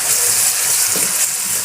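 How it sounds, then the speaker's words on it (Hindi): Chopped tomatoes and green chillies hit a pan of frying chicken, setting off a loud, steady sizzle close up. "अब मैं इसमें टमाटर और हरी मिर्च जो काट कर रखी थी वो डाल देती हूँ।"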